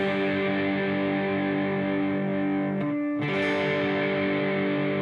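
Distorted electric guitar plays the opening part of a song slowly, as sustained ringing chords. A brief break near the middle is followed by a fresh strum, with no voices.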